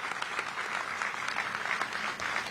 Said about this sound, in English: one more big round of applause for the national anthem.